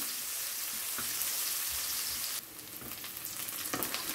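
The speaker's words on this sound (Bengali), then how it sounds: "পেঁয়াজটা ভাজা হয়ে গেছে" Chopped medium onion fries in oil for a boal fish curry with potato and flat beans, a steady close sizzle with occasional spatula scrapes and a brief dip in loudness partway through.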